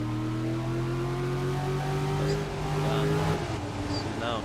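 Race car engines in a racing video game whine with steady harmonic tones that climb in pitch together at the green flag, then break up into overlapping passing engines.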